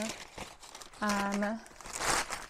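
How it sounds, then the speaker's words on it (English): Packing paper is scrunched up by hand, giving short crinkling bursts close by, with a brief spoken sound in the middle. "packing paper and just throw some of that, kind of scrunch it up a little bit and put that on top"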